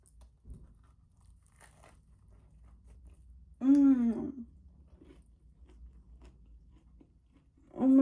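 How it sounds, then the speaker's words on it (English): A big messy bite of a sloppy-joe sandwich on a homemade bun is chewed quietly and close up, with soft mouth sounds broken by two short, appreciative hums. "So I'm gonna take a big messy bite and see what it tastes like."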